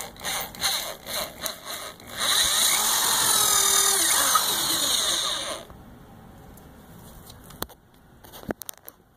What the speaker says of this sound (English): I'm gonna start off with drilling a hole from the top down